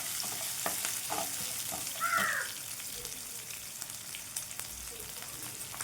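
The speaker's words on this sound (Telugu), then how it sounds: "ఇందులో అయితే అల్లం వెల్లుల్లి పేస్ట్ వేసుకుందాం" Fresh ginger garlic paste, a tablespoon, fries in a pan with green chillies for an ivy gourd masala curry, giving a soft, steady crackling sizzle with light stirring and no voices.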